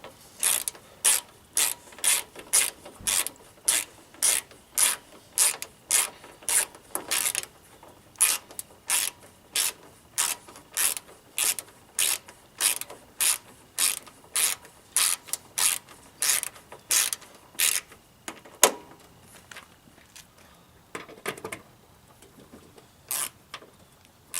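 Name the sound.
ratchet with 7mm socket tightening headlight assembly bolts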